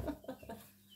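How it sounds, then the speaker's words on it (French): Outdoor birds give a few short clucking calls that sound like a chicken, heard close but faint, followed by quiet background. "Merci les oiseaux, ils sont revenus."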